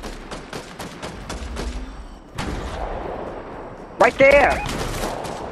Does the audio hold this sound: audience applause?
no